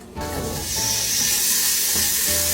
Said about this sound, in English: Now I need to render out the bacon fat